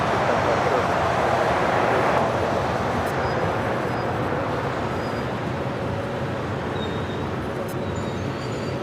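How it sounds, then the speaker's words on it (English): An Eva Air Cargo Boeing 777 freighter, brand new, arrives on the south side of LAX with a broad, continuous jet roar that fades slightly over the seconds, heard at a distance outdoors. "Eva Air Cargo, flight 612 is our next arrival here on the south side. It's a brand new 777 freighter."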